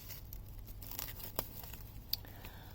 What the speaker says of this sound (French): J'ai pas de ciseaux, je coupe un petit peu à l'arrache comme ça